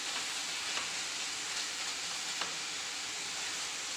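A thickening coconut burfi mixture is stirred steadily in a pan, giving a continuous soft sizzling hiss with faint scraping strokes, close and even, with no voices.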